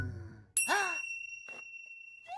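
A bright bell in a children's cartoon rings once with a long shimmering ring-out, followed by a couple of softer, brief sounds.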